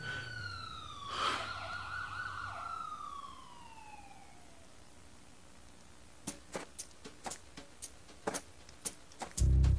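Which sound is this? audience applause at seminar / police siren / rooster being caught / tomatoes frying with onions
police siren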